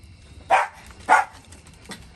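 A dog barks twice close by, two short sharp barks about half a second apart, followed by a fainter third yip in an otherwise quiet room.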